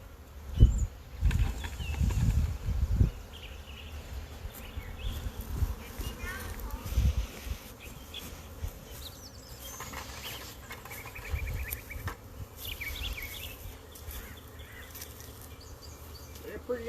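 Swarming honey bees buzz around a limb near a hive, a fluctuating drone with louder bursts near the start and scattered thumps and handling noises, while a person speaks at times.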